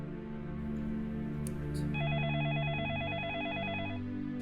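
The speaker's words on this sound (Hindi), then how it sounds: "अरे इस वक्त किसका फोन आ गया?" A telephone rings in a domestic drama scene, starting at about two seconds with a warbling electronic ring that repeats steadily over background music, fairly loud and close.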